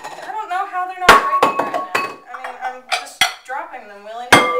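Strong glass dishes are struck hard against each other and a surface without shattering, giving several sharp clinks and clatters spread through the stretch while someone talks over them.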